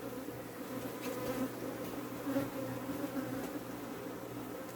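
A honey bee swarm at a bee yard hums in a steady, dense drone of many wings, continuous and moderately close, with no talking.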